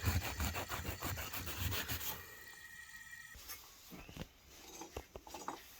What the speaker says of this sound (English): Then I want to take like this block sander while it's hot, clean up our pipe.